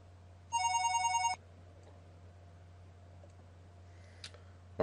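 A telephone rings once in a short electronic trill, fairly clear over a low steady hum, followed by silence and a few faint clicks.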